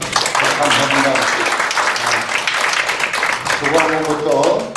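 An audience at a policy forum on arts and culture for children with disabilities applauds in a broad, sustained wash of clapping, with voices mixed in underneath.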